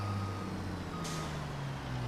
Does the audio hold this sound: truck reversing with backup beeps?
yes